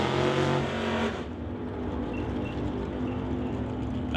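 A 1927 Ford T Roadster and a Chevy II drag race, engines roaring loud and near at the start, then the sound drops to a more distant, steady drone as the cars pull away down the strip.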